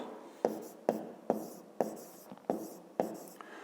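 A pen writing on paper gives six evenly spaced, close strokes, each a sharp tap followed by a short fading scratch, in a steady rhythm with no talk.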